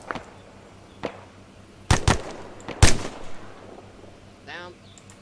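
Soldiers' rifle fire in the military video game ArmA 3 during a squad exercise: several sharp, loud shots spaced irregularly, some doubled, with a brief voice in the background.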